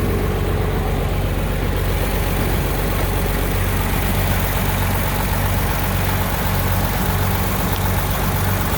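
The engine of a 1929 Chevrolet 1.5 ton pickup truck idles with a steady, smooth low rumble, close and fairly loud, running alone without voices.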